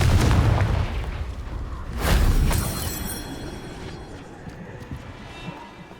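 A Confringo blasting spell explodes in the game Hogwarts Legacy, with a heavy booming blast at the start and a second burst about two seconds in, both fading into a long, decaying rumble.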